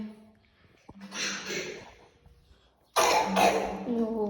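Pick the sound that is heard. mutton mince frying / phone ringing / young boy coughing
young boy coughing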